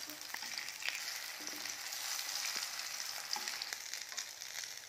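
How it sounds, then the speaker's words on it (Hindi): Corn, potato and paneer tikkis fry in hot oil with a steady, close sizzle and crackle that keeps on without a break, with no voices. "पलटते पलटते हम इसे गोल्डन फ्राई होते तक फ्राई कर लेंगे"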